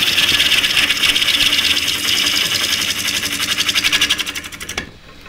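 A half-inch Henry Taylor bowl gouge with an asymmetric grind and long left wing cuts a spinning wooden bowl on a lathe, a loud continuous scraping hiss with rapid rhythmic pulsing that stops abruptly near the end.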